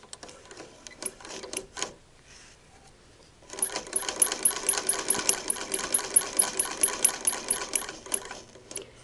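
An older Singer Model 20 toy sewing machine stitches through three layers of quilting cotton at its longest stitch length, giving a few short clicks followed by a fast, steady, tinny mechanical chatter, close and moderately loud.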